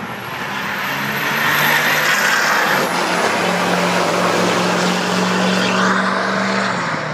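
A diesel truck engine drones steadily, a low, heavy rumble with a constant idle hum, loud and close throughout.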